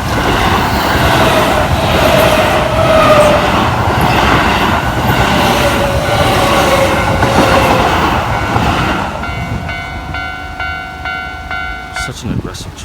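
A Tokyo commuter train pulls into a station, its broad rumbling roar and squealing wheels filling the scene loudly before easing off into quieter platform ambience with bright tonal chimes near the end.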